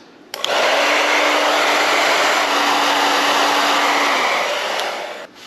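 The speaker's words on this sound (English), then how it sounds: "get yourself a hair dryer and heat it up" A hair dryer heating vinyl tint film on a Dodge Challenger rear side marker light switches on and blows with a steady, loud whir for several seconds, then clicks off.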